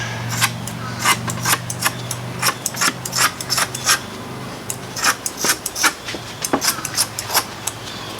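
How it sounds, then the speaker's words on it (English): Cheap shop scissors snip through woven glass cloth while building a boat rudder, giving a close series of crisp, irregular cuts and rasping slides, loud and alone with no talking. "cheap shop scissors."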